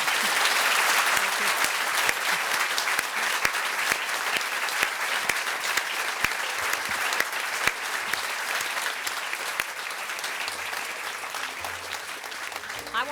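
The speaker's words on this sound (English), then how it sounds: "please give a last rousing round of applause" Sustained applause from a large audience, steady and dense with sharp individual claps, continuing for the whole stretch with only a slight taper near the end.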